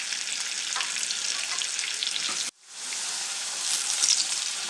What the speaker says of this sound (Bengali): এগুলোকে একটু বাদামি রং করে ভেজে নিচ্ছি